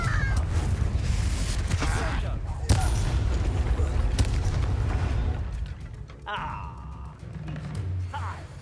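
A Confringo explosive spell goes off in the Hogwarts video game as a run of booming blasts and crackling impacts amid battle noise and music, loud and close, with a brief spoken line between.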